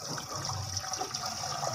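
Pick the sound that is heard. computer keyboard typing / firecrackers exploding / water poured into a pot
water poured into a pot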